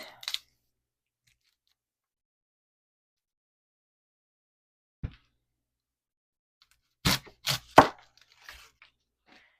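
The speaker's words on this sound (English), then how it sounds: "I'm going to cut this onion next." An onion is chopped with a knife on a board: a lone cut, a long pause, another single chop, then a quick cluster of three or four firm knocks, all close and otherwise quiet.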